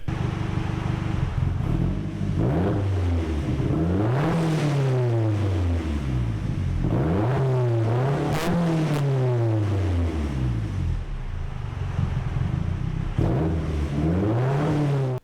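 A turbocharged KA24DE-powered Datsun engine runs loud and close, repeatedly revving up and dropping back in several rising and falling sweeps across the whole stretch, with no talking.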